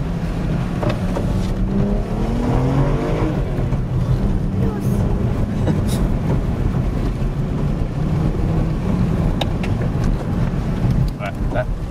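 A manual car's engine and gearbox through a double-clutch downshift, the engine note rising and falling under steady road and wind noise, with some engine braking; no one talks over it.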